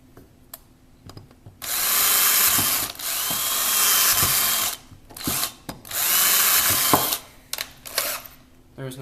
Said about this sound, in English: So you'll just drill holes.